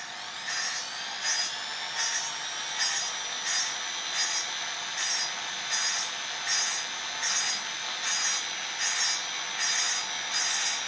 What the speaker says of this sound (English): when its sound becomes smooth and you feel that both the surface have a perfect mating, then you can stop the grinding process